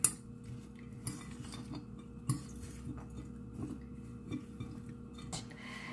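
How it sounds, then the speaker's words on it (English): A utensil stirs olives, capers and chopped apple in a bowl for a sandwich filling, giving quiet, scattered clinks and scrapes at close range with no talk. "a little bit of olives, carpers, and 1/4 apple. Let's stir it."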